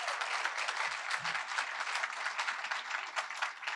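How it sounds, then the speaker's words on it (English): An audience at a State of the City address applauds poet laureate Shaka after a performance with steady, soft clapping that carries on evenly, with a faint low murmur briefly underneath. "please give another round of applause to Shaka"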